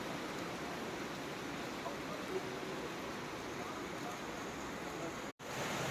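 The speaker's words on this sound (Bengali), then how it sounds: "আর আজকের বৃষ্টি তার মধ্যে শ্রেষ্ঠ বৃষ্টি" Heavy rain pours in a dense, unbroken wash of hiss, steady and enveloping throughout, with a brief dropout near the end; no speech.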